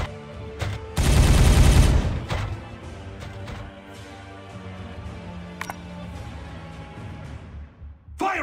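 A Warhammer 40K Regicide tactical squad opens fire in a loud, dense burst of gunfire at the start, followed by scattered shots, impacts and low rumbling battle noise continuing to the end.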